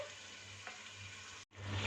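Goat trotters and head meat fry steadily in a pot, a dense crackling hiss that drops out for an instant near the end before resuming.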